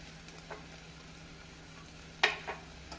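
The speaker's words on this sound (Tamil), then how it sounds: "உருளைக்கிழங்கு போட்டு சற்று வதக்கி ஒரு நிமிடம் நாம் வதக்கிய பின்" Potatoes sauté in a pan with turmeric and chili powder, giving a faint, steady low sizzle broken by a few sharp spoon scrapes and clinks against the pan.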